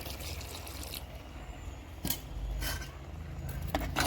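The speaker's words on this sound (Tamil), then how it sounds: "கொஞ்சமாக தண்ணி ஊற்றிக்கலாம்." Water is poured in a small amount into a pot of radish sambar, a soft trickling splash close by amid quiet kitchen noise, with no talking.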